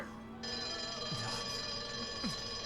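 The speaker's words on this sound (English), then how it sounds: "There's a loud bell ringing." Loud ringing bell in the video game Persona 5 Royal, a sustained tonal chime with bright overtones that holds steady for a couple of seconds, with faint swooping tones layered over it and no speech.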